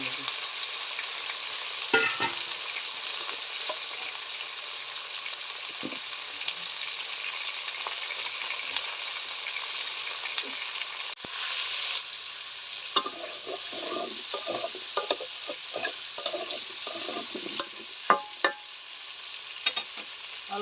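Potato and eggplant fry in hot oil with a steady broadband sizzle, while sharper stirring clicks and scrapes grow more frequent toward the end, close and with no one talking.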